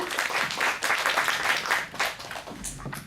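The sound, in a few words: audience applause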